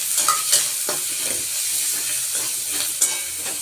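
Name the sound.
spices added to the pan for egg yolk curry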